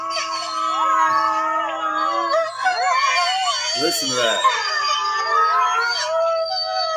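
Several wolves howl together from a video being played, long rising and falling wails layered over one another, while a person speaks briefly over them.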